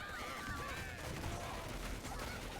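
Machine gun fire in a battle of the video game Vyeshal Kyawlnez, faint, dense rattling bursts mixed into busy game noise with whistling effects, fairly far off and continuous throughout.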